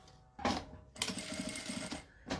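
A sewing machine stitches a ribbon onto fabric for a makeup pouch, with a short burst of motor whir, then a longer steady run of rapid stitching, then another start, close and clear with no talking.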